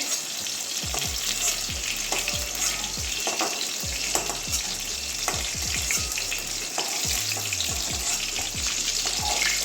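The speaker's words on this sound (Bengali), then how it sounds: "লাল লাল করে ভেজে নিই পটলগুলো" Pointed gourd pieces frying in hot oil, a continuous close sizzle and crackle with repeated scraping stirs of a utensil against the pan, no voices.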